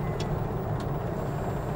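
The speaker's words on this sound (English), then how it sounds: "Bury the throttle, watch the Veglia dial climb." An electric-converted classic Renault 4 or 5 accelerates hard, giving a steady, continuous road and drivetrain rumble with a couple of faint high chirps and no voices.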